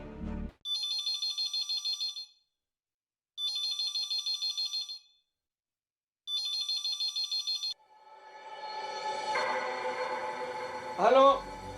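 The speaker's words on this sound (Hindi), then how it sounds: "घंटी बज रही है" A telephone rings in three electronic trilling bursts separated by pauses, clear and fairly close, followed by a rising noisy swell and a brief voice at the end.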